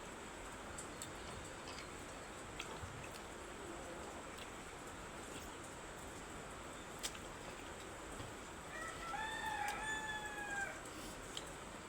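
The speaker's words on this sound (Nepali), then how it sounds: "ब्याकग्राउन्डमा चाहिँ यति कुखुरा कराइरहेछ" Chickens cluck faintly in the background against a quiet outdoor hush, with scattered ticks and taps, and a rooster lets out a clear cock-a-doodle-doo crow near the end.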